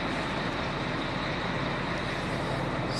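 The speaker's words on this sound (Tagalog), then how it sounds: "dahil maingay po itong machine na to or itong sasakyan" A loud, continuous engine drone fills the whole stretch, broadband and unchanging, like a running vehicle idling close by.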